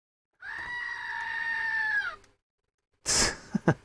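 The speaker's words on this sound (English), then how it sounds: "Where's the goat?" A goat gives one long, loud, steady bleat close by, then falls silent before a burst of noise and a few sharp clicks follow.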